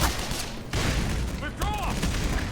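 Bursts of gunfire and a grenade blast in the video game Black Mesa, rapid loud shots crowding together over a couple of seconds with a voice shouting over the action.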